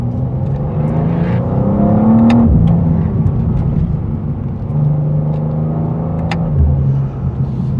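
The 3-liter turbo inline-six of a 2025 BMW M2 idles loudly with a deep rumble and revs briefly twice, the pitch rising and falling, close up with no talking.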